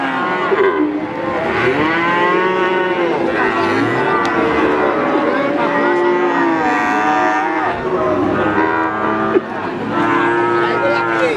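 Cattle moo repeatedly at a livestock market, several breeding calves and cattle calling near and far over a busy market crowd with voices in the background.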